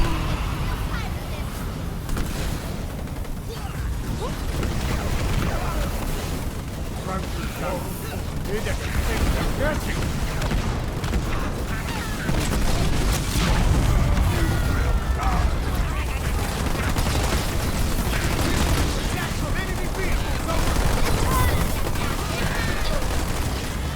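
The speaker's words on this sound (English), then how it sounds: "Fire from ground troops." Ground troops firing weapons in the Halo Wars 2 strategy game, a dense, continuous wash of gunfire and bursts with mechanical battle noise and voice chatter running throughout.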